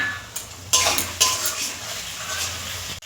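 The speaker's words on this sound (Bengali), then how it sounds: "এবার এটাকে আবার 5 মিনিট ধরে কষবো" Chicken masala with turmeric, chili and cumin sautéing in a pan, close metal spatula scrapes and clanks against the pan over a steady frying sizzle, several sharp strokes, no voices.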